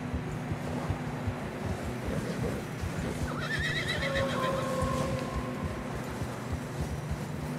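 In the Red Dead Redemption 2 video game, a horse gives a loud whinny partway through, over steady hoof clopping and wind in fresh snow along a narrow trail.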